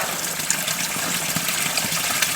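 A spring-fed stream spills down from an upper channel over a dug-out bank beside a cottage. It makes a steady, even rush of falling water with no pauses, close by and fairly loud.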